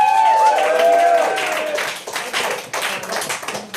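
An audience claps for stand-up comedian Mike Milling, close and lively applause with whoops at the start that thins into scattered claps by the end.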